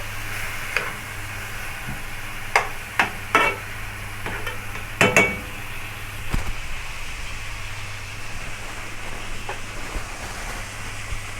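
Chunks of meat for kebab sear in a hot pot with a continuous soft sizzle, broken by several sharp clinks and scrapes as the pieces are stirred and turned, with no talking.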